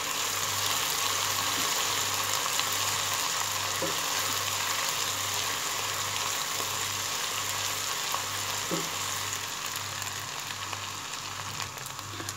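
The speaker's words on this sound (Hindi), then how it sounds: "अब हम इसको भी सोटे करेंगे, अदरक लहसुन के पेस्ट को प्याज के साथ।" Ginger garlic paste sautéing with onions in a pan gives a steady, continuous sizzle with a faint low hum underneath, no voices, at an even loudness throughout.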